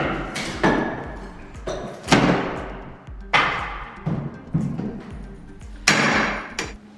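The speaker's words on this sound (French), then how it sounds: "On est obligé de prendre le pied de biche et la massette, ça fait un bruit horrible." A crowbar and mallet prying up an old living-room wooden floor: loud, sharp hammer blows land at irregular intervals, each followed by a brief ringing decay, with creaks and thuds between strikes and no talking.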